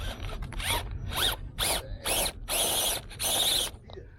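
An electric motor on an RC crawler being tested whirs in repeated short bursts, rising and falling whines with brief pauses between, loud and close.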